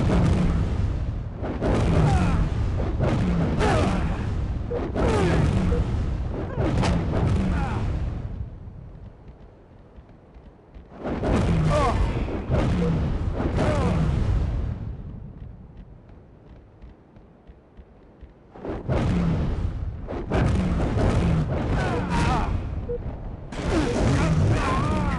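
Heavy booming explosions and rumbling blasts come from bomb drops in a Halo Grifball match, arriving in loud dense bursts with quieter gaps between them.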